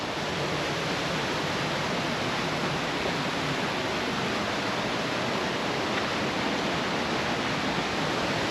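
Waterfall beside an alpine mountain trail in Rocky Mountain National Park, a steady broadband rush of falling water, constant and unbroken throughout, with no voices.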